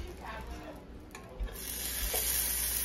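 A meat patty for Salisbury steak sizzling in a pan as it is flipped, a soft continuous frying hiss with a couple of low thuds from the turn, fairly quiet and without talk.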